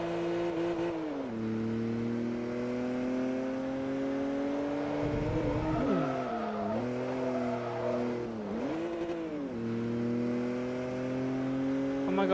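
Simulated race car engines revving in a Forza Motorsport 3 race, a loud sustained drone with rising and falling pitch as the car accelerates and shifts gears, other cars faintly audible beneath.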